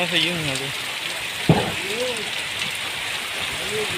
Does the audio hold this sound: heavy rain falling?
yes